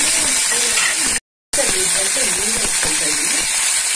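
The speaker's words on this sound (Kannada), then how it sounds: "ಸಾಸಿವೆ ಹಾಕೊಂಡಿದ್ದೀನಿ, ಒಂದ್ ಮೆಣಸಿನ್ಕಾಯಿ 4 ಹಾಕೊಳ್ತಾ ಇದ್ದೀನಿ" Mustard seeds and four chillies sizzle and spit in hot oil in a kitchen pan, a loud steady hiss broken by a brief dropout, with a voice talking over it.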